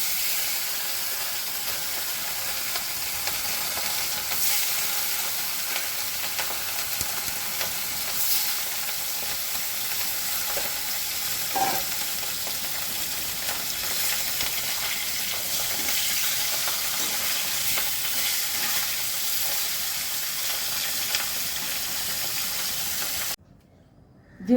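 Fish frying in hot oil in a pan, a steady dense sizzle that carries on continuously before cutting off abruptly at the very end.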